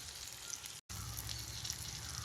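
Mackerel frying in a pan of hot oil in a home kitchen, a steady soft sizzle with faint crackles, close and continuous apart from one very brief cut.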